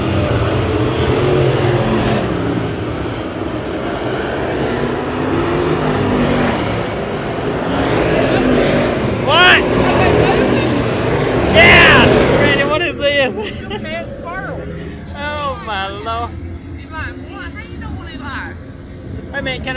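A race car runs a hot lap at a track, its engine noise loud and steady under crowd babble and nearby voices, then the engine fades as close talk takes over.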